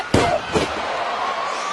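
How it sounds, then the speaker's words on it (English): In a professional wrestling match, Randy Orton slams Bray Wyatt down onto the ring mat: a sharp impact thud, a second lighter thump, then lingering crowd noise. "Orton slams him down"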